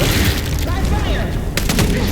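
Gunfire and booming blasts fill a combat scene in the video game Vampire: The Masquerade – Bloodlines 2, with dense low rumbling and a few sharp shots, mixed under voices talking.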